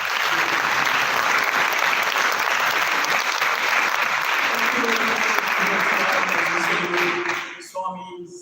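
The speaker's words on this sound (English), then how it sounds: "a big round of applause" A concert audience gives a big round of applause, dense and loud clapping sustained for about seven seconds before dropping away, with a voice briefly heard as it ends.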